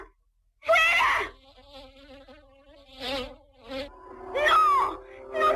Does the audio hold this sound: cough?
no